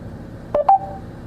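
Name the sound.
car phone dialing a call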